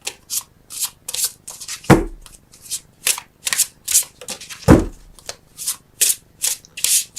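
Tarot cards are shuffled by hand in quick, rhythmic riffles and shuffles, repeated bursts of papery rustle with two heavier slaps. The sound is loud and close, with no voice.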